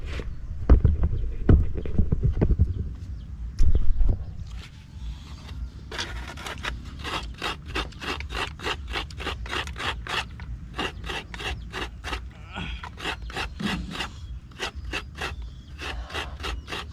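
Coconut grated by hand while cooking snails in coconut milk: a steady run of rhythmic rasping scrapes, quick repeated strokes at close range, preceded by a few heavier knocks and handling sounds.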